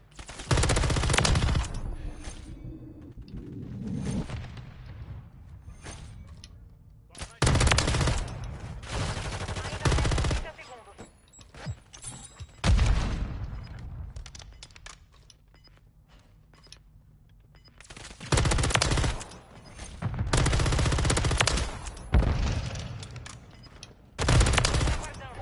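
Gunfire in Call of Duty: Warzone (Modern Warfare III) erupts in several loud sustained bursts of automatic fire, separated by quieter stretches with scattered single shots and clicks.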